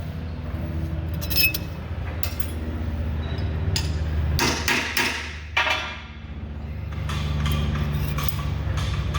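Metal strikes ring out as a bearing is pounded into place on a Lancaster Model 4220 hammer mill: a handful of sharp, close hits spaced unevenly, some in quick pairs, over a steady workshop drone.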